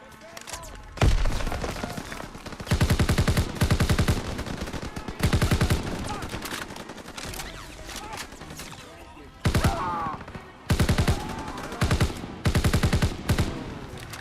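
A BAR machine gun firing in the World War II video game Call of Duty WW2: repeated loud, close bursts of rapid automatic fire separated by short pauses, with battle noise in between.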